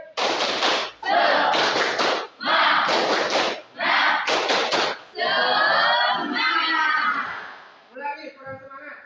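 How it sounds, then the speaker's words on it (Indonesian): A high school class performing a rhythmic spirit clap, several loud bursts of group clapping and shouting in a classroom, followed by sustained cheering voices. "Ya, kita tepuk semangat dan tepuk pramuka."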